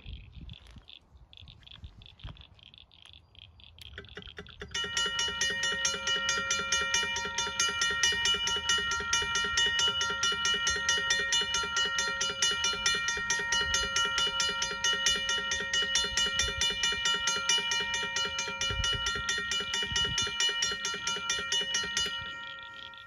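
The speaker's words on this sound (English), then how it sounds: "now I'll show this bell ringing" A railway crossing bell set to its soft tone starts up after a few seconds of quiet handling noise. It then rings continuously and evenly with rapid strikes at close range before cutting off near the end.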